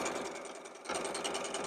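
A sewing machine stitches a cosplay cape with a fur collar in one continuous close, steady whir that briefly slows and then speeds up again.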